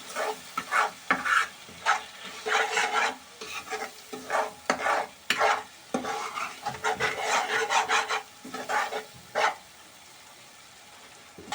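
Spice masala with Kashmiri red chilli is stirred in a pan for egg lababdar, a series of scraping, rasping spoon strokes with soft sizzling, rhythmic bursts separated by short pauses and no speech.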